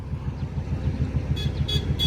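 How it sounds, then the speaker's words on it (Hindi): A car drives along a road near a fort in Ranthambore with its engine rumbling steadily and getting louder as it comes closer, while several short horn toots sound near the end and no one speaks. "अरे गाड़ी आ रही है।"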